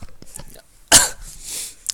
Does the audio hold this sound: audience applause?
no